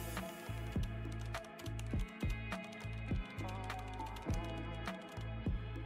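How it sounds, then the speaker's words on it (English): A computer keyboard clatters up close in quick, uneven bursts of keystrokes with short pauses, quiet and alone, as a prompt is typed. "Then I can type in a prompt like this."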